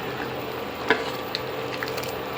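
Mung dal cooks in a pot on an electric stove, giving a soft, continuous sizzle and bubbling hiss with a faint clink or two. It sounds close and fairly quiet, with no voices.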